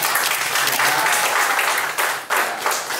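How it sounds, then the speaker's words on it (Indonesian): Guests at a church wedding blessing applaud the newly married couple, a loud, sustained round of clapping from a crowd that dips briefly before picking up again. "Mari kita kasih tepuk tangannya."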